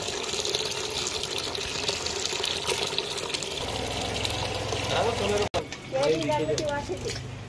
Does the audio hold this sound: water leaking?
yes